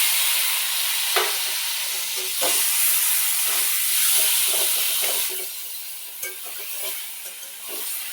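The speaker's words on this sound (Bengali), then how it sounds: "বেগুন আর টমেটো ম্যাশ করে রেখেছিলাম এটা ঢেলে দেবো।" Mashed eggplant and tomato hitting onions frying with turmeric in a pan, a steady close sizzle and hiss with occasional stirring scrapes and clinks throughout, no talking.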